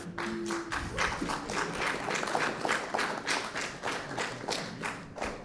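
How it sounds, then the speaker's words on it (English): An audience at a morning panel gives light golf claps, a sparse, evenly paced series of soft individual hand claps, fairly close and moderately loud, with no talk over them. "Golf claps all around"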